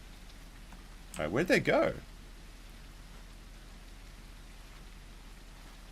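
Rain falling in the dinosaur survival game The Isle, a faint steady hiss throughout, briefly under a person speaking.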